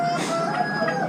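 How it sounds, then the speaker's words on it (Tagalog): Chickens at a small animal auction cluck and squawk in a short, busy burst, with thin tonal calls over a steady murmur of surrounding noise. "Iba-ibang klase manok."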